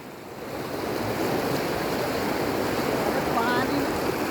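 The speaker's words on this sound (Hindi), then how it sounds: "बहाव कितना तेज है? ज़्यादा तेज बहाव है क्या?" Fast-flowing water of the Gaula river at the Gaula barrage near Kathgodam, Uttarakhand, makes a steady broadband rush that stays loud and constant throughout, with no speech heard over it.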